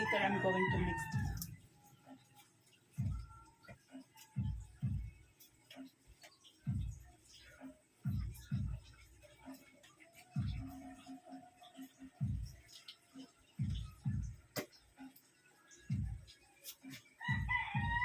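Live chickens and a rooster call faintly in the background of a home kitchen during the cooking of chicken afritada, with a crow at the start and end over steady low knocks and kitchen clatter.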